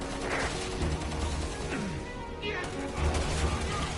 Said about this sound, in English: I think I hit an anti-tank mine! APC's busted!